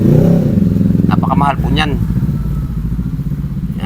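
A motorcycle engine runs close by with a steady low throb throughout, beneath someone talking over it.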